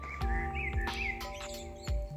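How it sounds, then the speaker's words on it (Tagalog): Birds chirping and calling outdoors, several bright tweets and warbling calls close by over a steady low hum, with a few soft thumps underneath. "humuhuni ang mga ibon"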